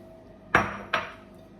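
Two sharp clinks sound against a bowl as chopped tomatoes go into tabbouleh, each a quick knock with a short ringing tail, close and clear in a quiet kitchen.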